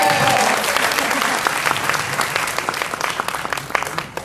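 A crowd claps steadily throughout, a dense patter of applause that thins slightly toward the end.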